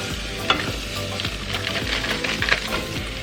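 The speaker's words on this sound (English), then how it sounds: "I'm going to brown up this whole big thing of Jimmy Dean sausage" Jimmy Dean sausage browning in a big pot, a dense continuous sizzle with scraping stir strokes and a couple of sharp utensil taps against the pot.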